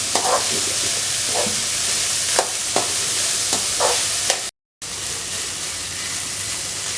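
Sliced onions frying in a pan for potato podimas, a steady loud sizzle with several sharp stirring scrapes, and a brief dropout partway through.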